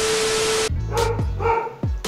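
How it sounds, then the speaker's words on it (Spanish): A small dog named Crash barks in a few sharp yips and whimpers at close range, right after a steady hiss stops, with no talking over it. "Ay, perrito. ¡Basta, Crash!"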